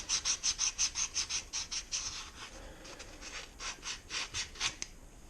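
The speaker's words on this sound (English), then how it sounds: "Trying to get rid of that rust as best we can." Sandpaper scrubbing rust off a bicycle frame: a steady run of rhythmic rasping strokes, loud and close, then a short lull before another quick burst of strokes.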